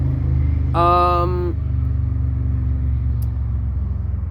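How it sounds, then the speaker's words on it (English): A loud, low engine roar from passing cars fills the whole stretch, with a brief horn-like tone near the start. "those cars are so loud"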